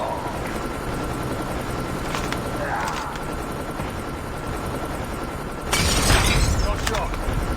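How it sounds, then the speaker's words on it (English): In a first-person shooter, a stealth helicopter's rotor hum drones steadily under game noise, with a loud crash or shatter near the end, while players talk over it. "Stealth chopper inbound."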